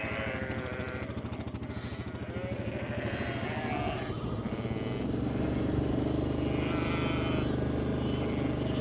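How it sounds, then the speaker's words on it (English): A quad bike engine idles and putters steadily nearby while ewes are fed in a field, a continuous mechanical drone with some clatter and faint bleating. "Just make sure that there's no lambs dart in front of the quad bike"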